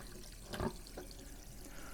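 Water runs from the kitchen faucet of a Jayco North Point 310RLTS RV being flushed of antifreeze, a faint steady splashing stream with a brief louder gush, no talk.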